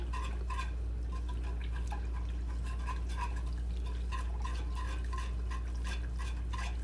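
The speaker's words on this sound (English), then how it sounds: "that's all I'm going to do is just bring this just to a simmer" Liquid heated to a simmer in a cooking pot while being stirred, with soft irregular clinks and light watery splashes over a low steady hum, fairly quiet and close.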